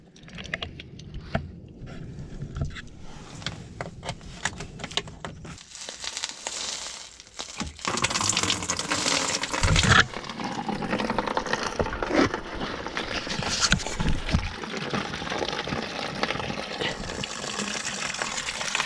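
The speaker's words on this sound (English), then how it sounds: "Okay, so we'll just let that drain out for a minute" Coolant pours and splashes out of a drained system on a Ford Fiesta ST150 (Mk6), a steady gushing liquid flow that grows louder and denser halfway through, mixed with clicking and crinkling handling noises.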